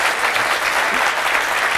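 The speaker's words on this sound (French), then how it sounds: "un gars comme ça s'applaudit" A studio audience at a French impressionist contest applauds loudly and steadily, a dense wash of clapping filling the space for a couple of seconds with no voices on top.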